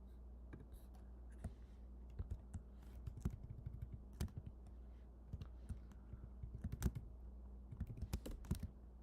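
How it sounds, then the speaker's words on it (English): Typing on a computer keyboard while working through coding problems: irregular bursts of soft key clicks, close and fairly quiet, over a steady low hum. "Having to type long."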